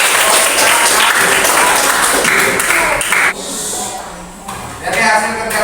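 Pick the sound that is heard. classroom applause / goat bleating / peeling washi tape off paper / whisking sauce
classroom applause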